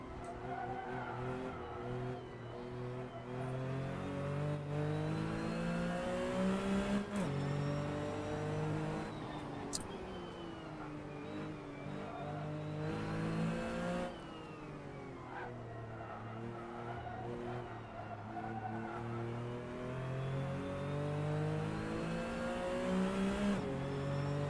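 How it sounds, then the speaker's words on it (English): A race car engine in a sim racing game revs and drones continuously, its pitch rising and falling through gear changes and corners, loud and close the whole way with no talk. "Let me know if the car audio is too loud."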